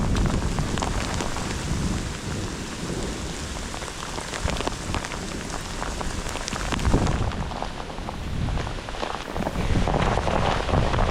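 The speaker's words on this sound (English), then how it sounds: "It's a lot of hail." Heavy hail pelts down steadily during a Colorado mountain elk hunt, a dense, continuous drumming hiss on surfaces with no letup and brief swells in intensity.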